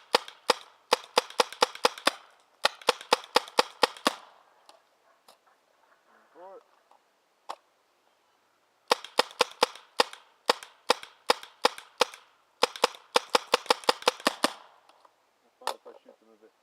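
A paintball gun fires Inka Copper paintballs in rapid bursts of sharp, crisp pops, several quick strings separated by short pauses, close and loud, with a faint voice briefly in a gap.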